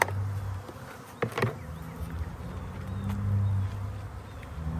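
Honey bees buzz steadily around an open hive during a spring inspection, a continuous close drone with a few louder passes of individual bees near the ear.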